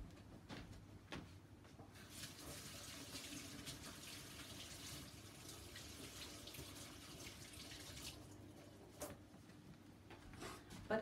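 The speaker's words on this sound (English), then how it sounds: "I have to wash my hands just for a bit." Tap water runs steadily into a sink for hand washing after an acrylic pouring session, a continuous close hiss with a few faint knocks and clatters mixed in and no talking.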